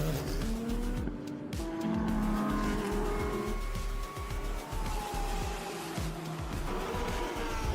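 GT3 race cars roar through the first corner at the Michelin 6 Hours of Abu Dhabi, engines snarling and shifting with tyre squeal as several cars pass close together in a continuous, dense racing din.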